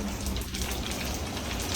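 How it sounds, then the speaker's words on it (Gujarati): Steady rain falls in a village, a close, even hiss of drops on surfaces with no pauses and no voices. "વરસાદ વર્યો એવા ને મારે ખાવી હતી"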